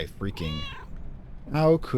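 A cat meows twice in the video game Book of Hours, each meow drawn out, close and clear, with a short pause between them and soft game sounds around them.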